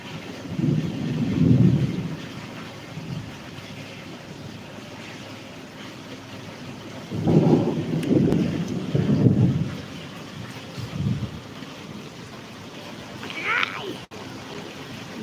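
Low rumbles of thunder roll in several bursts over a steady wash of rain during a thunderstorm, with laundry left out getting soaked, one rumble early and a longer cluster midway.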